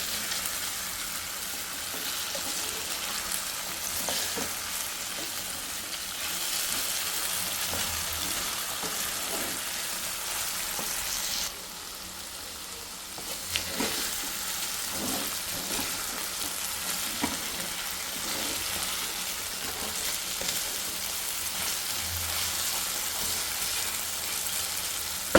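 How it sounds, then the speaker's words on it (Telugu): Potato pieces frying in a pan and being stirred now and then, a steady dense sizzle with occasional scraping and clattering of the spatula, close and continuous, with no talking. "ఆలు అయితే వేగిపోయింది, చాలా ఫాస్ట్గా వేగిపోతుంది అన్నమాట ఆలు"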